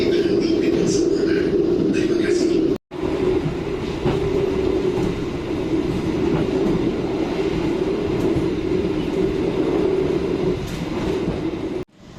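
Train running on the line from Surabaya to Ngawi station, heard from on board as a steady loud rumble and low hum with faint rail clatter, nearly continuous with a brief cutout, and muffled voices in the background.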